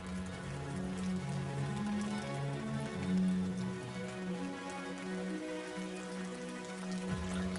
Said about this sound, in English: Rain falls incessantly throughout the Amazon's wet season